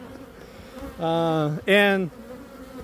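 Bees swarm around a walk-away split hive, with two close, loud buzzing passes about half a second each, separated by a short gap, over a quiet background.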